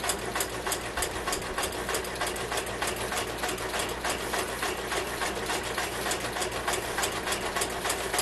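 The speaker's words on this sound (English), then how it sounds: "we're going to slide it under our machine and put the presser foot down and run it down the line." Sewing machine stitching fabric for a coaster-like mug rug, running as a steady, rapid mechanical chatter with an even pulsing rhythm throughout, close and moderately quiet.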